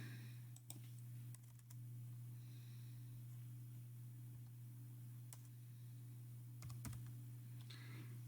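Computer keyboard typing in a quiet room, sparse clusters of soft, close key clicks over a constant low electrical hum.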